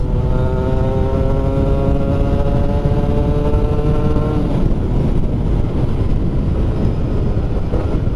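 Yamaha Mio two-stroke motorcycle on a test ride, its engine droning loud and close with a steady buzzing tone for about four seconds before breaking into rougher, noisier running.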